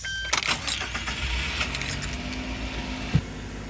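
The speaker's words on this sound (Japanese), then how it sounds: "エンジンをかけています。" A kei van's engine is started inside a DIY camper conversion. Keys jangle close by, the engine catches, and a steady idle hum follows with a sharp click near the end.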